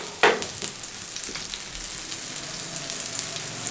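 An egg omelette paratha fries in ghee on a flat pan over low flame, with a steady crackling sizzle, a sharper spatter at the start and occasional light scrapes.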